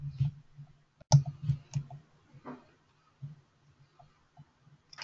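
Sharp mouse clicks while working through a statistical software dialog, a few distinct clicks spread over several seconds among quiet low rumble and faint breathy noise.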